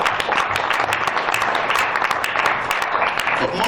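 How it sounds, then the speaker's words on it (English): Audience at a live evening show claps and cheers continuously in a dense, steady wash of applause, loud and close, with crowd voices mixed in. "I want you all to give yourselves a hand clap for coming out tonight supporting."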